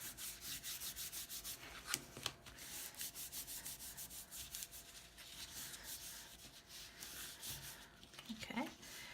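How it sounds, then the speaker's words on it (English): Glued paper being rubbed down firmly onto chipboard by hand, a steady close dry swishing that runs throughout with brief louder scuffs, plus faint background sounds. "give that thing a good rub"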